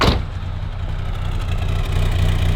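A cold carbureted engine in a BMW 2002tii idles high with a steady, even drone and low rumble after a brief initial thump, heard up close and alone.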